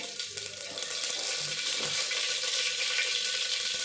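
Steady hissing sizzle of mustard seeds popping in hot oil as tempering for sambar, continuous and fairly close, with faint crackles and no talking.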